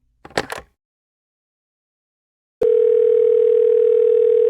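Telephone dial tone as a phone call sound effect: a brief clatter, then silence, then a sudden steady electronic hum that holds loud and unchanging to the end.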